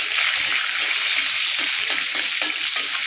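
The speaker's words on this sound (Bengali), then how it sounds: "এবার কাজু আর কিশমিশটা ভেজে নেব হালকা করে।" Cashews and raisins frying lightly in hot ghee for palm payesh, a steady close sizzle with soft stirring scrapes throughout.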